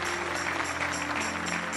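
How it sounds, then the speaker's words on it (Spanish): Church congregation applauding for Jesus, a dense, steady wash of clapping that holds evenly across the short moment without talk on top. "Un aplauso fuerte a Jesús."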